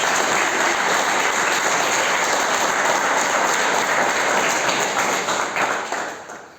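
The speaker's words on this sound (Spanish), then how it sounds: "fuerte el aplauso" Dense, loud applause from an audience at a cooking class fills the air steadily for several seconds, then tapers off at the end.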